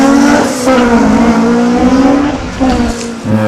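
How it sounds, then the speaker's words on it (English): A little Honda-powered Datsun 1200 race car launches hard off the start line at a hillclimb, a loud, close engine scream rising through gears with a brief tire chirp, alone without talk. "Now Jeff Farden just launches it off the start line. Little Honda powered Datsun 1200"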